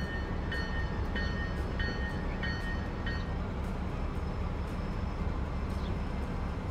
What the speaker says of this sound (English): Oh, here comes our sister train.